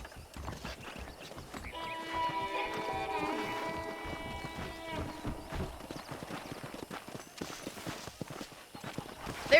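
Steady clip-clop of horse hooves trotting nearby in Red Dead Redemption, with a sustained musical tone over it and some chatter in the background.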